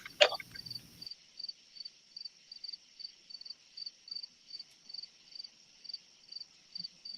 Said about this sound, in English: got a cricket. Is it me?